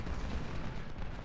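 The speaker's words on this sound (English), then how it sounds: "Now they're shooting at us with cannons now." Civil War cannon artillery fire in Ultimate General: Civil War, a brief low booming rumble that sounds distant and muffled and fills the short moment without a clear single blast.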